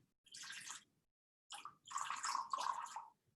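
Water poured into a measuring cup up to the quarter line, two short bursts of splashing pour with a pause between them, close and fairly quiet.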